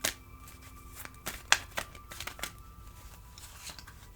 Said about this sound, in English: Going to shuffle them now.